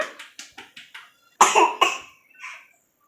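A sick girl coughs in a quick series of small hacking bursts, then two louder, harsher coughs and a fainter one trailing off, close by.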